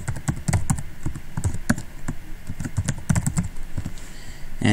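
Login details being typed on a computer keyboard, a quick irregular run of close, crisp key taps with a slightly louder clack at the end.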